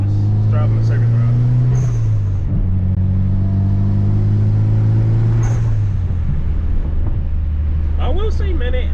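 Tuned Mitsubishi EVO 8 driving a circuit, its engine a loud, close, steady drone that shifts pitch as it changes gear, with a fluttering surge and a whooshing release near the end.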